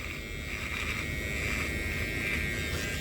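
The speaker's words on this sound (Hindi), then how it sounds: "भाई मैंने एक ट्रिमर ले रखा है" An electric beard trimmer gives a steady, continuous buzz held close and fairly loud for the whole stretch, with no talking over it.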